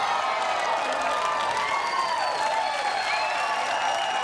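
Spectators at a mixed doubles badminton bronze medal match clapping and cheering with whoops and shouts, a sustained, fairly loud roar of applause.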